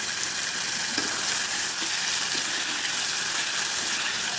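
Onions and tomatoes sautéing in a pan for a mushroom gravy give a steady, close sizzle and crackle that runs unbroken from start to finish, with no voices over it.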